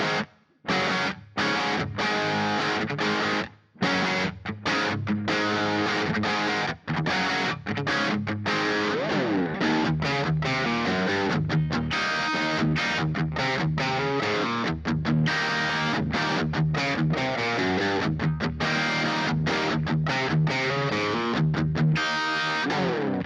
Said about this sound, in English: Let's give it some ambience, a little bit of reverb.